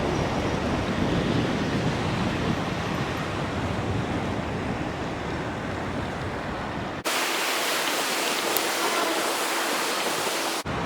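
Sea waves surging up and splashing over rocks onto a beach strand near a pier and harbor, a continuous loud roaring wash of surf with wind, cutting abruptly to a hissier, thinner rush near the end.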